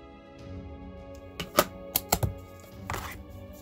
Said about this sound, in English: This will be your template. Take your scissors and just cut it out.